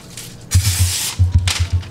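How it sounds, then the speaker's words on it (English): Two short bursts of Pam cooking spray hiss close up onto a pan, separated by a brief pause, with a faint sizzle underneath. "I need to spray the pan with Pam. Pam cooking spray right there."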